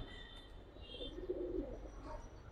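Old-generation gribaz pigeons give a soft, low coo in the middle of the stretch, faint against quiet background noise with a few light chirps around it.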